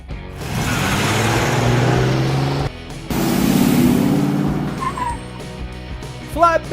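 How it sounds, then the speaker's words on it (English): A coupe car drives by with a loud engine drone that rises, cuts off briefly and returns, ending in short squeaks and clatters. "Coupe."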